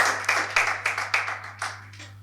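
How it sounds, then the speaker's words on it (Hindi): Audience applause at a Hindi-language novel launch ceremony, a series of roughly eight sharp, loud clapping bursts in quick uneven rhythm, close by over a steady low hum. "तालियां हो जाएं डायरेक्ट साहब"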